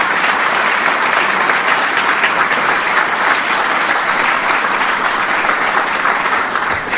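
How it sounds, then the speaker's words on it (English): Sustained, loud applause from a large crowd, steady and unbroken throughout, with dense clapping filling the space. "Give them a big round of applause."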